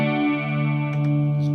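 An instrument tone runs through a Yamaha REX 50 effects unit set to its symphonic effect, giving a sustained, rich chorused drone with a few soft swells near the end and no talking.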